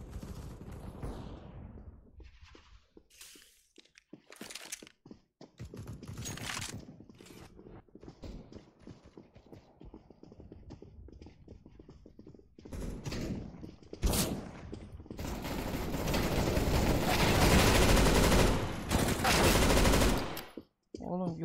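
Gunfire from the video game Counter-Strike: Global Offensive, with bursts of rapid automatic shots mixed with single cracks, growing loud and dense toward the end, under occasional speech.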